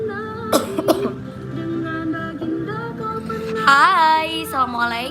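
A couple of short, sharp coughs from a woman with a sore throat, heard over steady background music.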